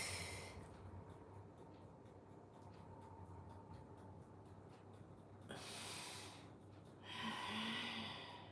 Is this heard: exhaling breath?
yes